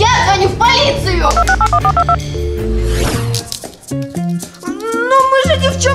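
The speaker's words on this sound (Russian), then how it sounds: "Я звоню в полицию!" A telephone is dialed to call the police during a dramatic household scene, giving a rapid run of bright stepped dial tones over a loud music bed, with voices talking before and after.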